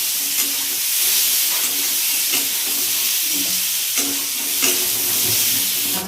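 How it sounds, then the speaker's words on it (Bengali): Pointed gourd (potol) fries in a home kitchen pan with a steady, close crackling sizzle and a few brief stirring clinks, with no voices over it. "আর এখানে আমি পটলটা ভাজা করছি।"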